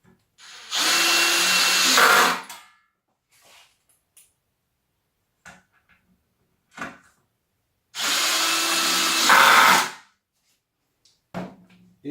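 A power drill whirs in two loud, close bursts of about two seconds each while drilling and driving screws into U-shaped fence rails on posts, separated by quiet handling clicks and taps.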